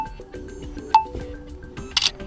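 Realme 11 Pro phone camera on a tripod snapping a selfie: a sharp shutter click near the middle, followed by a brighter burst of shutter noise shortly after, over quiet room tone.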